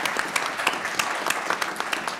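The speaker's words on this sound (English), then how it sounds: "So I really do want to applaud Scott" A conference audience applauds at a political summit, a dense crackle of many hands clapping together at close range for a couple of seconds.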